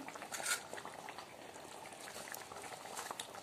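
Curry gravy bubbles at a steady boil in a pan, a soft continuous blipping and popping heard close and alone, fairly quiet throughout.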